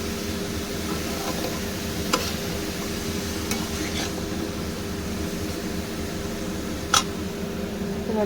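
Ash gourd stirred into a coconut spice paste in a pan for chalkumro ghonto: a steady scraping and shuffling with a few sharp clicks of the spoon against the pan, close by and fairly quiet, with no voices.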